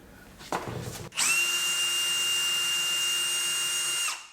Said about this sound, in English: You just have to drill 4 holes into the wall.